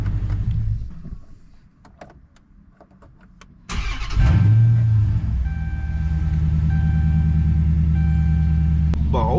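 A Dodge Charger R/T engine cranks and fires up after a brief quiet, settling into a loud, close, steady idle rumble with a faint whine layered above it.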